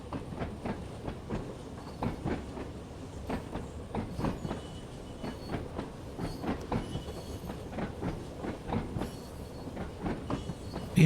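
Simulated train in Train Sim World 3 rolling along on a summer southbound run, steady rhythmic clickety-clack of wheels over rail joints with a continuous low rumble, moderately quiet and without voices.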